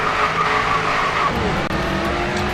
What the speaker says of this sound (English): And here we're going to do some more donuts, and we're going to wreck into some more cars